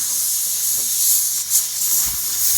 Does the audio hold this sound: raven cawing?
no